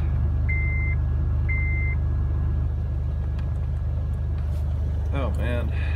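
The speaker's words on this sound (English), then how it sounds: "I always tell it's cold when it cold starts at 2 grand RPM" A 2004 Chevrolet Blazer engine idles high and steady after a cold start at minus 26, a loud continuous low rumble with two short beeps early on and a voice speaking briefly near the end.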